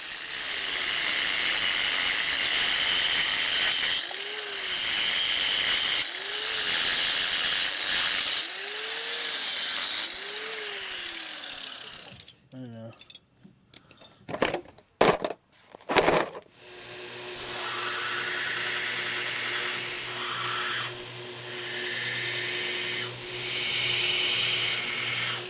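Nails cut to length for a Mad Max prop bat with a power tool: long steady whining hiss with pitch dips as the blade bites, broken midway by sharp clanks and knocks, then more grinding.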